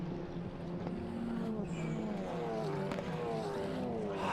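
TCR touring race cars braking hard into a corner at Slovakia Ring, engines dropping through downshifts with a touch of tire squeal, steady and fairly close throughout.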